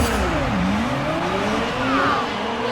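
Ferrari F430 race car engine in GRID 2019 at the start of a race, a loud, steady drone with rising and falling revs and a brief tire squeal, heard alone.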